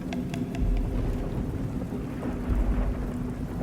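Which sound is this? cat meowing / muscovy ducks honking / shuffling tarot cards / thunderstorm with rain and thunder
thunderstorm with rain and thunder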